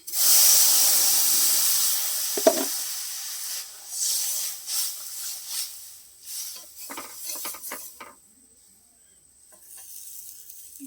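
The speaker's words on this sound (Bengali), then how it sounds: "হলুদ দিয়ে দিলাম আমি জল দিয়ে দিচ্ছি" Water poured into a hot pan holding turmeric erupts into a loud hiss of steam that gradually fades to softer, uneven sizzling and bubbling.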